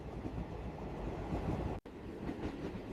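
A train rides on rails with a steady, loud rumble and clatter throughout, broken by one brief dropout near the end.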